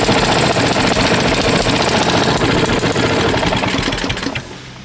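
Ariens Pro 21 snowblower engine, warmed up, running at a steady loud chatter right from the start of the clip, then dropping away near the end. No talk over it.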